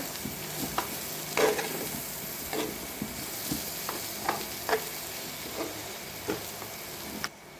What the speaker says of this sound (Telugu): ఫ్రై అవుతుందండి మొత్తం అంతా దగ్గరికి పడి బాగా ఫ్రై అవి మంచి స్మెల్ కూడా వస్తుంది